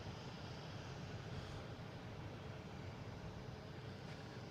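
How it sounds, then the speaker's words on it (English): An Airbus A220 airliner on approach to land at Boston Logan, arriving from Fort Lauderdale, makes a steady, even roar of engine and air noise that stays fairly distant throughout, with no voices. "we have an A220 coming in"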